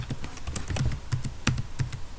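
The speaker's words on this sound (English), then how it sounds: "I typed something wrong, so let me go back" Quick, uneven clicking of keys on a computer keyboard while setting up Arduino folders, close and steady with small bursts of keystrokes.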